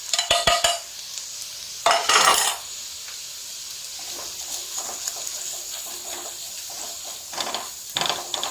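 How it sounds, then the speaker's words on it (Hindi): Spices with onion and white cumin seeds frying in a pan for a potato samosa filling, with a steady low sizzle, intermittent utensil scrapes and stirring clatter, and a few louder metallic knocks near the start and end. "बस 1 मिनट के लिए इसको भून लेंगे ताकि मसालों का कच्चापन दूर हो जाए।"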